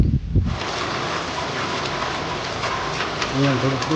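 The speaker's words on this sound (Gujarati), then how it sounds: "હવે વરસાદ ચાલુ થઈ ગયો છે" Steady rain hisses in a dense wash of noise, with a faint voice briefly near the end.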